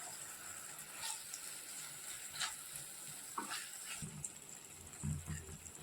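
Soya chunks stirred into chilli gravy in a pan, a quiet steady sizzle with a few scraping stir strokes, close by and without voices.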